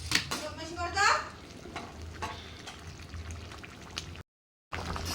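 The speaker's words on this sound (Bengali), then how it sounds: "দেখুন পোলাওটা পুরো টকবক টকবক করে ফুটছে" Pulao rice boiling in a pot in a home kitchen, giving a soft, steady bubbling and crackling hiss with a few louder stirring bursts, then a brief silence before the simmer resumes.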